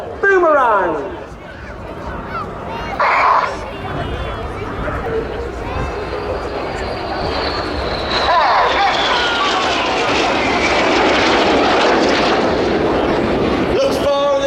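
RAF Red Arrows jets in a display at the Ayr Airshow 2023 roar across the sky, a loud continuous jet rush swelling and sweeping as the aircraft pass, with deep rumbling bursts.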